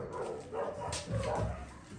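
A puppy gives soft, faint yips and barks, a few quick bursts close by with no one talking.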